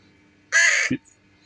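A young pet raven kept in a caravan gives a single harsh, rasping caw at close range, followed by a short low grunt, with quiet surroundings before and after.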